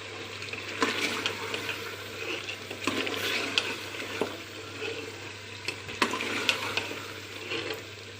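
Beef and yogurt sauté in a pot for a stew, giving a continuous sizzle broken by scraping stirs at irregular intervals, heard close and alone.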